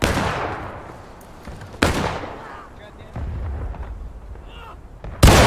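Musket and cannon fire from a Civil War battle in the game War of Rights: several loud, sharp booming shots ring out at intervals over a continuous rumbling background of distant fire.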